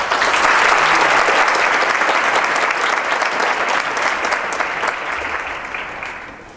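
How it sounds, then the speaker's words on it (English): An audience applauds a choir after its performance, a full, dense round of clapping at steady volume that gradually eases off toward the end. "I first want to applaud the choir"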